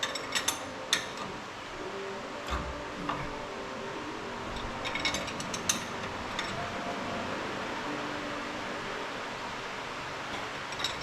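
Ratchet tightening a bolt while torquing it down, heard as a steady mechanical whir with scattered clicks and ticks, moderately close with no talk over it.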